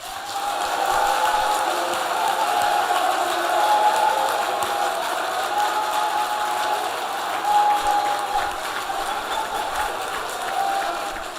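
A large crowd in Lokossa applauds and cheers steadily, dense clapping and voices filling the whole stretch at a fairly even, loud level with no pauses.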